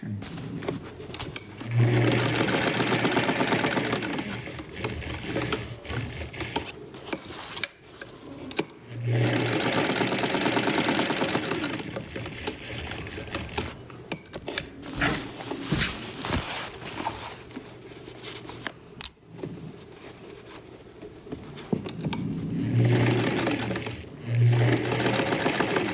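A sewing machine stitches a French fashion princess doll dress in bursts of rapid mechanical chatter, with pauses and handling noises between runs, close and fairly loud.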